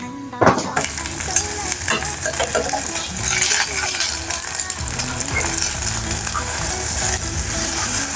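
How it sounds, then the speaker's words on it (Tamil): An egg fries in a pan in a home kitchen, a loud continuous sizzle mixed with rattling scrapes and clanks from a wobbly pan, with a sharp knock near the start. "முட்டையை பொரிச்சாச்சு"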